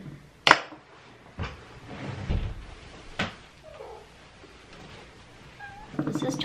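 A cat meows indoors, a few short calls scattered among sharp knocks and clatter, with a person's voice briefly audible nearby.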